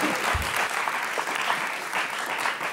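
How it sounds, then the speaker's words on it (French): Studio audience on a French television talk show applauding loudly, a dense, sustained burst of clapping filling the whole stretch with no voices over it. "j'aimerais qu'on applaudisse très fort cette dame, s'il vous plaît"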